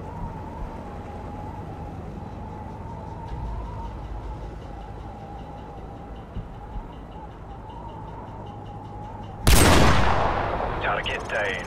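A single sharp sniper rifle shot cracks loudly from a Call of Duty Modern Warfare mission, ringing out with a trailing echo after a stretch of low ambient hum.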